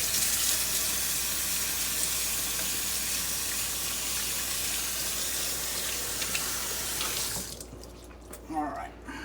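Tap water runs steadily into a kitchen sink while hands wash up after handling chicken, a hissing, broadband rush that continues for several seconds before cutting off, followed by a few faint splashes and drips.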